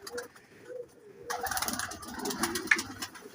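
Pet pigeons kept in a loft coo softly and repeatedly at close range, with low throaty calls over light rustling and faint background noise.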